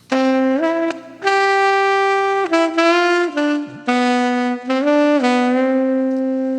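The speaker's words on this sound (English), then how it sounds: "you sent me the tenor saxophone, which sounds something like this" An AI-generated tenor saxophone plays a bright, reedy, lively phrase of short and sustained notes, stepping up and down in pitch, loud and close with no talking.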